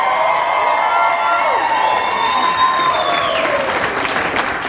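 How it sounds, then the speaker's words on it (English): Audience at a puppet slam clapping and cheering in a dense, sustained burst of applause with whoops and high shouts rising over it, loud and close throughout. "This audience couldn't clap and cheer and encourage you to sing and dance."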